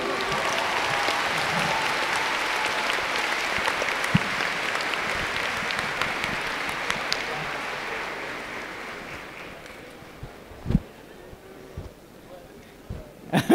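A large convention crowd at Japan Expo applauds cosplayers during a Fairy Tail panel, a dense, steady wash of clapping that fades toward the end, leaving a few scattered claps and knocks.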